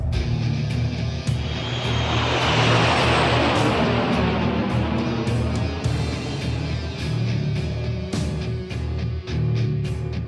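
An airship lifts off in the video game Tales of Xillia, a loud rising engine roar with a deep throbbing rumble that swells and then settles into a steady drone, with light clicks scattered through it.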